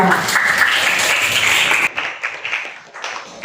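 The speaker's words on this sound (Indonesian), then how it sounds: "Beri tepuk tangan untuk kelompok 2." Classroom applause for a student group after their presentation, a dense burst of clapping that fills the first two seconds, then breaks off into scattered, fading claps.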